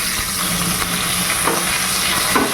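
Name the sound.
boal fish frying in a pan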